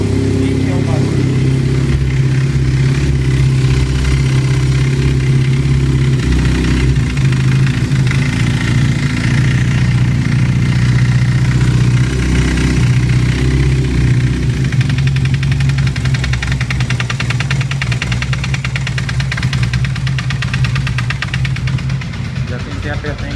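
A Honda CBR 450SR motorcycle engine idles steadily and loudly up close for over twenty seconds, with a faint uneven knocking under the hum, while someone talks over it.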